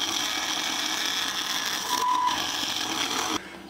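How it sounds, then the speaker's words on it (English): Hand-cranked improvised milling rig built from a pillar drill in a home workshop, giving a continuous whirring, grinding mechanical drone with faint ratcheting, steady and close, stopping abruptly near the end. "here is the closest thing I've got to a milling machine"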